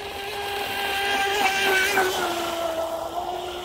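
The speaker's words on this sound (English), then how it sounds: "Tell you what, this little boat right here is fun to drive." A small ready-to-run Blackjack 24 RC boat with a strut modification runs on a pond, its electric motor giving a steady, high, buzzing whine that rises and dips slightly with the throttle, loud and continuous throughout.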